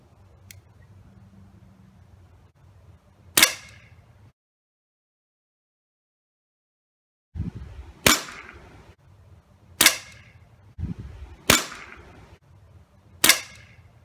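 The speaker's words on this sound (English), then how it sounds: "Now I'll go ahead and do another firing test with the silencer on." A Crosman 2240 air pistol fitted with a silencer fires five or six sharp, clipped shots, separated by a long pause and then spaced a second or two apart, close by with faint handling noise between shots.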